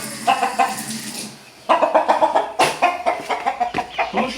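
A rooster kept and groomed for fighting gives loud, close, repeated harsh calls in short bursts, with a brief lull before the calls resume more strongly.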